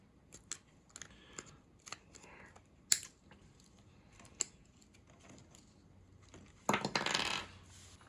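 Cutters snip through a plastic pole during a 28-segment bar graph installation, giving a series of sharp, quiet clicks at uneven intervals, then a louder, longer crunching burst.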